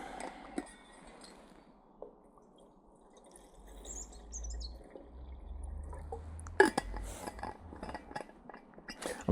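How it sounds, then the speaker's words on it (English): Water pours into a small aluminium pot sitting on a Trangia Mini spirit stove outdoors, a soft continuous trickle and gurgle building over several seconds, followed by a few metallic clinks and taps of the pot and lid. "So let's get some water in there"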